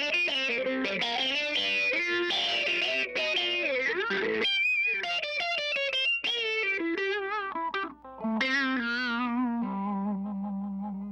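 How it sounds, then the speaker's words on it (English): Bass guitar played through an Electro-Harmonix Bassballs twin dynamic envelope filter pedal with distortion switched on, sustained gritty notes with sweeping, quacking filter shifts, loud and alone. "Put in some distortion."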